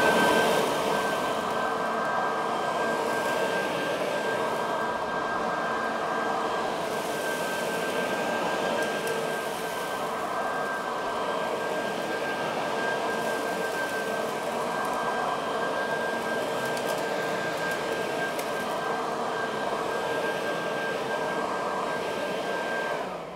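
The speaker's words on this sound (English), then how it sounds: "So all we simply did, we flipped the switch. We're back into the vacuuming mode." A vacuum mulcher machine runs in vacuuming mode while cleaning up a garage, producing a loud, constant motor whine with a steady high tonal hum and airy rushing suction, sustained for the whole stretch without speech.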